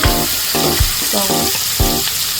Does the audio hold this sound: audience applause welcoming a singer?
no